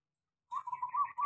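A local zebra dove (perkutut) coos in a short run of soft, rounded notes, fairly close and clear, starting after a brief silence with no other sounds.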